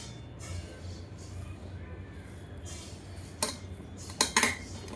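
A metal lid goes onto a kitchen pot with a few sharp clinks and a short rattle near the end, preceded by quiet room noise and faint voices in the background.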